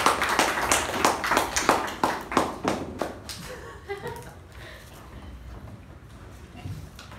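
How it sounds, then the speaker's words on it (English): A small audience at a Toastmasters meeting gives a brief round of clapping for the Toastmaster, distinct close claps for about three seconds that fade into quiet room murmur. "let's give a nice round of applause for our Toastmaster for the day"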